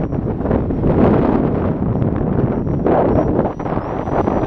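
Strong wind from an extreme snowstorm roars steadily across the microphone, loud and continuous with gusting swells while a model FT22 plane flies outdoors.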